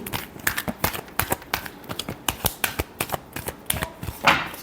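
A deck of tarot cards is shuffled by hand, producing quick rhythmic riffling clicks and soft slaps, close and crisp, with no talking.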